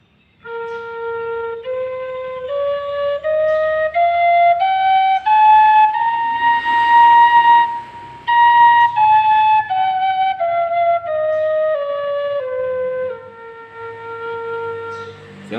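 A Thai khlui phiang o bamboo flute made of tiger-stripe wood plays a slow scale alone, climbing note by note to a high held tone and then stepping back down, clear and close.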